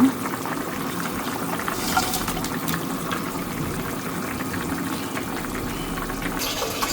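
A pot of fish curry simmers and bubbles steadily after broth and fish pieces are added, a close, continuous liquid boiling hiss with small pops and clinks, no voices.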